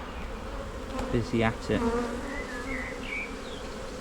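Honeybees from a swarm colony drone around a hive in a steady, close buzz, with a few individual bees passing near and briefly rising in pitch.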